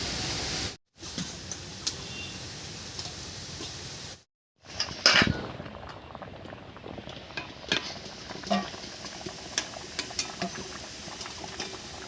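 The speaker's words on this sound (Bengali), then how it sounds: "এবারে হালকা করে একটু ঘুটে নিচ্ছি ডালটা" A ladle stirring and mashing dal with jackfruit in a pot, heard as a steady wet bubbling hiss with scattered scrapes and soft knocks, close and moderately loud, broken by two brief silences near the start.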